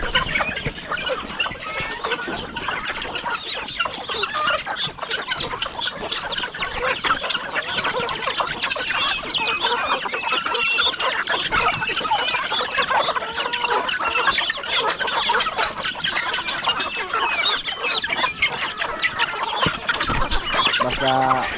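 Several backyard chickens cluck steadily and overlap, with a brief rooster-like call mixed in, a busy, continuous flock sound close by.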